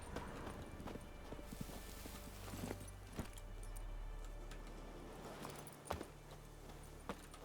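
Horse hooves clip-clop in Witcher 3, with sparse, quiet, irregular hoof strikes near a camp outdoors over a low ambient hum, no talking.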